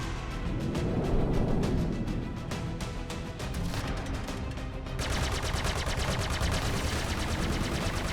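A spaceship takes sustained rapid gunfire in the Star Citizen space game, a dense, loud, continuous rattle of shots and impacts with no talk.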